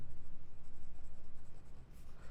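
A Platinum 3776 fountain pen with a music nib scratching across Mitsubishi bank paper in a notebook, faint, close and steady with rhythmic strokes.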